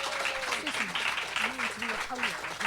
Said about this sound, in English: Big round of applause for Helen and for Nicola.